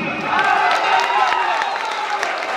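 An audience at a stage performance gives loud applause, dense clapping mixed with cheering and crowd voices, steady and close for the whole stretch.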